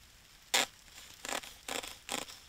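A pocket knife cuts an X into a stovejack, with four short, sharp slicing scrapes, the first one loudest, then three evenly spaced cuts at close range.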